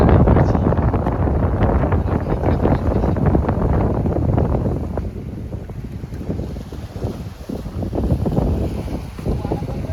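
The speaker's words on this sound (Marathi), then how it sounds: "हा वारा भरपूर आहे" Strong seashore wind buffets the microphone in loud, gusty rushes, easing a little before surging again.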